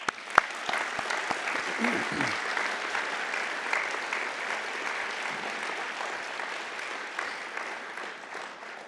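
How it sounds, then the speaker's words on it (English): New graduates at a University of Galway winter conferring ceremony applaud their families, friends and supporters, a sustained hall-filling round of clapping that opens with a few sharp claps and holds evenly throughout. "give a warm round of applause to your families, friends and supporters"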